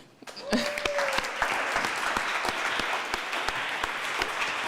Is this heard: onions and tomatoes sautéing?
no